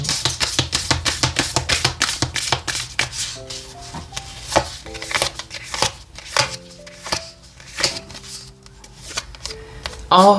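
Oracle cards are shuffled by hand in quick, repeated riffling flicks and slaps, each burst crisp and close. Soft sustained musical tones play underneath.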